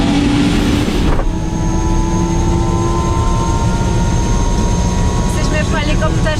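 Steady, loud helicopter engine drone with a whining rotor hum throughout, heard from inside the cabin on a flight from Lukla to Ramechhap, Nepal, heavy and continuous.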